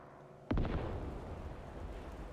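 A bomb exploding in the military video game Arma 3: one sudden deep blast followed by a long rumbling roll that slowly fades, moderately distant.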